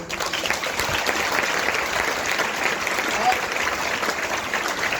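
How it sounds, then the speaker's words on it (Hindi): Seminar audience claps in loud, continuous applause that fills the room evenly, a dense wash of many hands with faint voices mixed in underneath. "स्मार्ट वैल्यू के लिए एक बार जोरदार ताली।"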